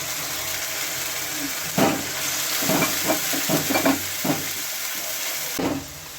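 Spice paste with onion and green chili fries in a pan for fish curry under a constant sizzle, while a spatula scrapes and stirs in a run of close, irregular knocks and scrapes.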